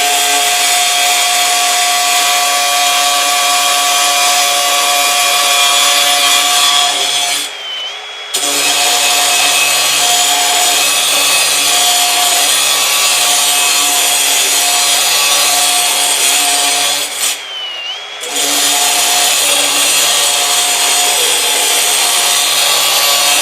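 An OK Diamond Metal Plus cutting wheel grinds through steel all thread with a loud, continuous, high-pitched whine, broken twice by short pauses before the cut resumes.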